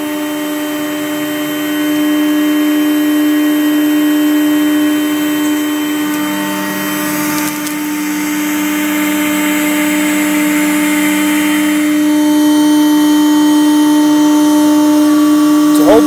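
A MultiCam MG205 CNC router with a 5x12 table and vacuum hold-down cuts at 18,000 RPM, giving a loud, steady, close whine that runs continuously with slight swells.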